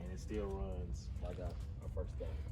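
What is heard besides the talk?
No everyday noises stand out.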